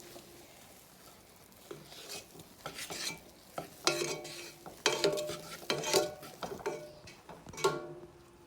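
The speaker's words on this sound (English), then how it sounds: "Keep stirring till they're all melted." Marshmallows being stirred as they melt in a pot, soft scraping and clacking strokes of a spoon against the pot, irregular and growing busier after a quieter start, close by over a faint low simmer.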